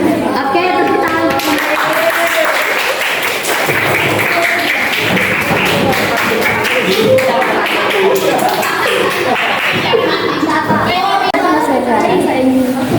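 A classroom group claps for the full stretch in a dense, steady patter of hands, with voices mixed in throughout.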